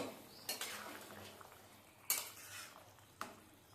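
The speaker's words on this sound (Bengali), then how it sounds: "এবারে ঢাকনা চাপা দিয়ে দেবো ঝোলটাকে ফোটার জন্যে" Metal pot lid set down and shifted on a pot of fish curry with papaya and vegetables, giving three sharp clanks spaced apart over a low kitchen hiss.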